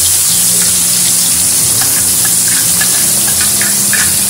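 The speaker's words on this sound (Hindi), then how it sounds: "ये 1 तेज़पत्ता, ये थोड़ी सी दालचीनी मैंने इस पर डाली है और ये कटे हुए प्याज हम ऐड कर रहे हैं।" Chopped onions fry in hot oil with cumin, a bay leaf and a little cinnamon, a loud, continuous close-up sizzle with faint stirring scrapes.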